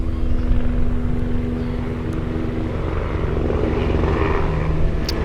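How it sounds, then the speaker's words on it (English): A propeller aircraft or helicopter passes overhead, a loud sustained engine drone with a low throbbing rumble that holds steady throughout, with no talking. "Just waiting for the plane or the helicopter to go by."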